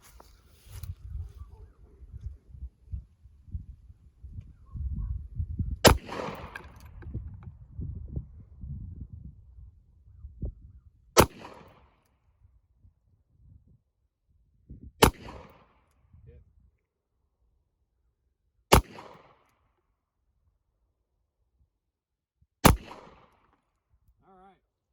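A .45 ACP pistol fires five sharp, loud shots several seconds apart, each crack trailing a short echo, with low rumbling handling noise before the first shot.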